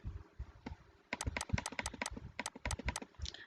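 Keys clack on a computer keyboard as a document is typed in, a quick close burst of crisp taps after a few slower strokes, with no talking.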